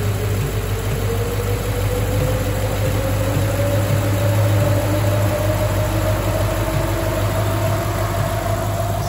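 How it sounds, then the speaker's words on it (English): A car engine fitted with an FRPP control pack idles steadily while the radiator fan runs at full blast. A loud, continuous whir and hum carries on without stumbling, and a slowly rising tone runs through it. "the fan is on full blast and the engine idle has not even stumbled at all"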